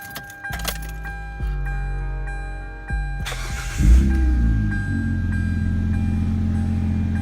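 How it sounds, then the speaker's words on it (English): Hyundai Tiburon with a modified exhaust cold-starting nearby: a jingle of keys, a couple of clicks, then the engine cranks, catches with a rumbling burst and settles into a steady, loud, deep idle. "Let's go ahead and get a cold start"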